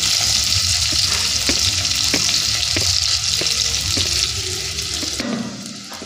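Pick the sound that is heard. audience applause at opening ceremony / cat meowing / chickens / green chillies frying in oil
green chillies frying in oil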